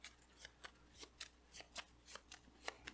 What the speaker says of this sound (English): we got to shuffle our deck and get encounter card